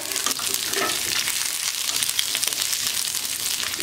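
Onion and capsicum fry in hot oil in a kadai with a steady, dense sizzle and crackle that carries on without a break, close and fairly loud, and no one speaks over it.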